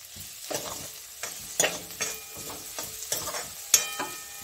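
Onion and tomato fry with turmeric in a pan, a steady sizzle broken by several sharp scraping stirs of a utensil, close and fairly loud, with no talking.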